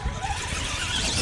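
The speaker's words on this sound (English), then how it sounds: "my tires are spinning" Arrma Gorgon RC monster truck tires spinning and squealing, a loud sustained high-pitched whine over a rough motor rumble, close by and steady with no talk over it.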